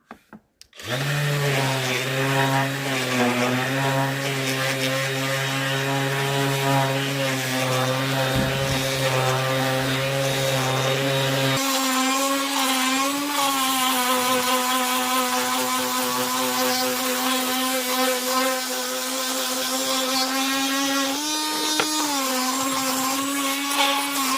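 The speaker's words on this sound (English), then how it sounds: "So I'll show a bit of sanding" Power sander working a beech and resin side table, a steady loud whirring hum with a constant tone running throughout, shifting pitch partway as pressure or position changes.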